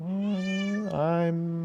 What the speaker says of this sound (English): The cat screaming at you.